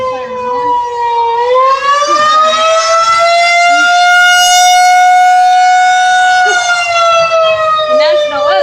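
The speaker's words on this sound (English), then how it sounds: "I don't know why they're just now putting the siren on." A tornado warning siren wails loudly and steadily, a sustained rising-and-falling civil defense tone filling the whole span, with faint voices beneath it.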